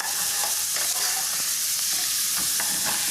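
Shallots and carrots stirred in a frying pan, a steady close sizzle with scraping spoon strokes recurring every half second or so, no voices.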